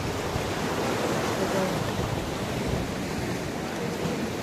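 Ocean waves washing onto a beach near sea caves, a constant loud roar of surf blended with wind buffeting the microphone, no clear speech.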